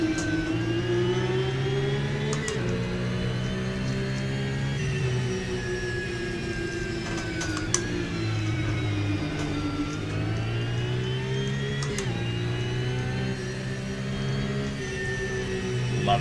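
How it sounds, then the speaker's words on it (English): A car engine in the Assetto Corsa racing game revs steadily and loudly throughout, its pitch rising and falling through gear changes with a continuous droning, harmonic tone and no talk over it. "Love the sound of this car."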